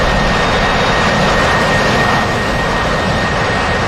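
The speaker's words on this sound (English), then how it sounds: "Good F-14 landing." An F-14 jet landing in DCS World gives a loud, steady jet engine roar with a thin whine throughout, close and continuous, no talking.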